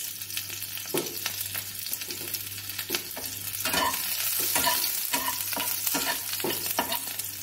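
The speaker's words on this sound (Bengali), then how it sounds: "তারপর আমি অ্যাড করে দেব কিছু চিলিস," Chillies and garlic frying in oil in a nonstick wok over a gas flame, loud continuous sizzling broken by frequent rhythmic stirring strokes and clinks of a spatula against the pan.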